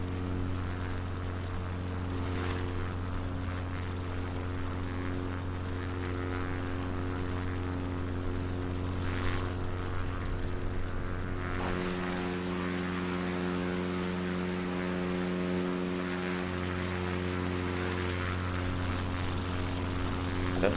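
Propeller aircraft droning steadily with a strong, even engine hum that shifts pitch partway through, heard from inside, continuous and fairly loud.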